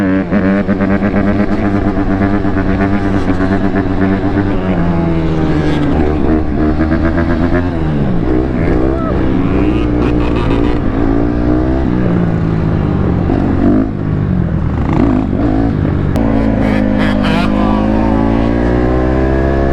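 A 150cc two-stroke dirt bike engine runs and revs loudly throughout while being ridden, with rising and falling pitch as the throttle opens and closes, and a voice talks over it in places.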